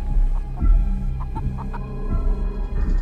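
A chicken in the horror video game Chicken Feet clucks in short repeated bursts over a low throbbing, humming background drone.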